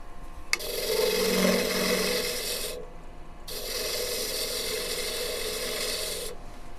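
A wood lathe spins a square blank while a tool cuts away its corners, producing a close, steady raspy scraping in two long passes separated by a short pause, with a sharp tick at the onset.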